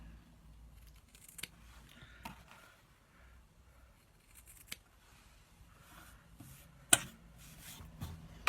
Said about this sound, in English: So we're going to trim off the corners on all 4 corners.